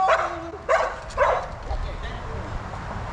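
A dog yips and barks in short bursts at a fishing spot by the water, mixed with people talking and outdoor background noise.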